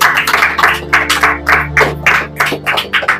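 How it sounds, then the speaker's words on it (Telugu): A church congregation claps loudly in a steady, rhythmic beat, many hands striking together in repeated bursts over a low sustained drone, close and full, with no talking. "గట్టిగా చప్పట్లు కొట్టి దేవుని నామమున మహిమ పడతాం"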